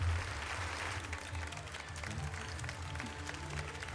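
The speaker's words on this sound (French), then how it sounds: "Il a applaudi le mec." Applause in the Final Fantasy XII Zodiac Age game, a brief burst of clapping that is faint and low in level, mixed with low music tones underneath.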